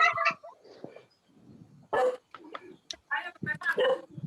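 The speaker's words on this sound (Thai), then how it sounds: "ข้ามบ้านผมหมาเห่าฮะบ้านผมหมาเห่า" A dog barks at the house next door, sharp loud barks in bursts with pauses between them, mixed with nearby voices talking over and between the barks.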